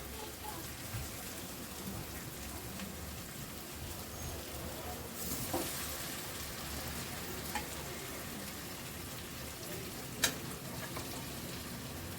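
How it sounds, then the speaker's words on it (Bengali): Mutton pieces frying in a pan, giving a steady, dense sizzle like rain that runs throughout at moderate loudness, with a few sharper pops and clinks standing out near the middle and toward the end. "এই মটনটা এই মধ্যে দিয়ে এবার কষাবো।"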